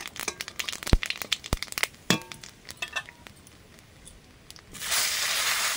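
Nigella seeds dropped into hot oil in a wok give sharp, scattered crackles and pops at close range, easing off before a steady hiss of sizzling takes over.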